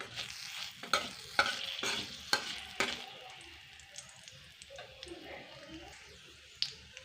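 Mustard seeds, chili and fenugreek being stirred in a frying pan, with quick crackling pops and spoon scrapes in a burst of rhythmic strokes that settle into a softer, faint sizzle.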